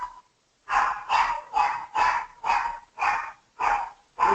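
A pet dog barks in a steady run of about eight sharp, evenly spaced barks, fairly close and alone, with no talking.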